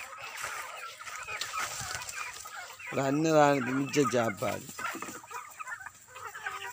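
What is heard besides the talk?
chickens clucking, hens fighting over leftover food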